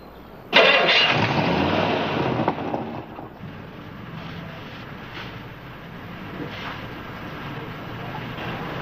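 A car engine on a 1950s highway patrol scene cranks and catches with a sudden loud burst, then settles into a steady mid-pitched idle that runs alone for several seconds.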